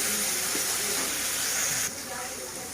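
Masala spices sizzle and hiss steadily as they are fried in a pan for a home-cooked Indian chicken dish, a continuous close frying hiss that drops slightly in level near the end.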